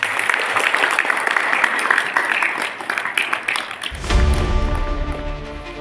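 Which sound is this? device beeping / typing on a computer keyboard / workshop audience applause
workshop audience applause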